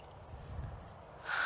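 A crow-like bird gives a single harsh caw near the end, fairly close and loud, preceded by quiet outdoor ambience and low rumble.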